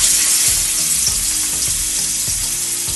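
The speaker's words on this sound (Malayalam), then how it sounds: "നമുക്ക് മീനൊന്ന് ഫ്രൈ ചെയ്യാം" Fish fries in a hot pan with a steady, close hiss of sizzling oil that stays loud and even throughout, with occasional soft stirring and no voices.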